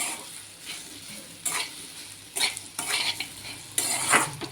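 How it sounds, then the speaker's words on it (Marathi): Okra is stirred and mixed in a pan for a quick bhindi bhaji, with scraping stirring strokes coming in uneven bursts over a low steady sizzle, close and moderately loud. "व्यवस्थित मिक्स करून घेऊया भेंडी."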